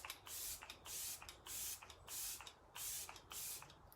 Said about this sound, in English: I'm gonna set my makeup with Refreshing Set Spray